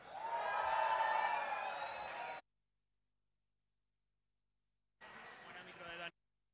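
Crowd at a battle-of-the-bands contest in Madrid applauding and cheering for a band, a dense roar of claps and shouts lasting about two seconds, then a gap of silence and a shorter, quieter burst.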